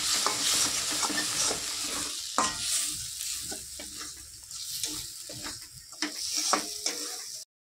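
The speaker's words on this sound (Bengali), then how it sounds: "দিয়ে দেবো 1 চামচ জিরে গুঁড়ো আর 1 চামচ ধনে গুঁড়ো। ভালো করে মিশিয়ে নেবো।" Cumin and coriander powder are stirred into a fish curry with new potatoes in a pan, producing steady close scraping and sizzling frying with no talk.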